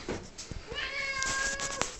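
A domestic cat meows with a rising, drawn-out call lasting over a second, close and fairly clear over a low background hum.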